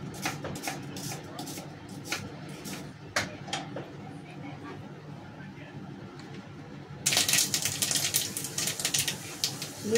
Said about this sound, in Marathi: कांदे जेवढे पाहिजे तेवढे बारीक करू शकतो